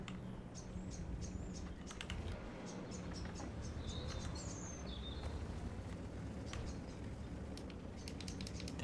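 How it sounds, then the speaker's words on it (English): Small birds chirp and whistle in a bush just outside a window, heard through a steady indoor hum with light clicking keyboard taps scattered throughout. "I think the birds are also literally in the bush right next to my window at the moment."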